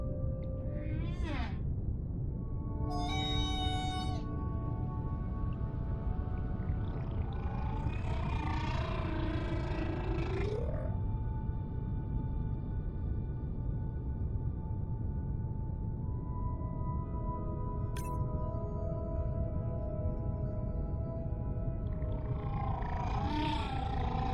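Varied whale social calls from video game Beyond Blue: rising whoops, harmonic moans, clicks and squeaks overlapping against a constant low underwater rumble, close and fairly loud throughout.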